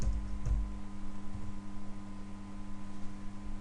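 Computer keys are tapped quietly in short bursts, mostly in the opening moments, over a steady electrical hum in an office setting, with no speech.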